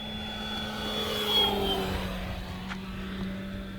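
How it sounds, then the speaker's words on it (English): A Hangar 9 PT-19 balsa-wood RC plane with a 56.5-inch wingspan and a wooden propeller flies past, its engine giving a steady buzzing drone that swells slightly mid-clip and holds on evenly without any talking. "Boy, that wooden prop sounds good"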